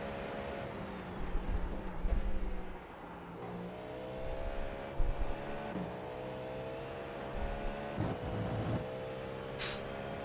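A GTP-class race car in the iRacing sim at Monza's Ascari chicane, with engine notes rising and falling through the corner at full speed, the steady engine drone continuing throughout at moderate loudness.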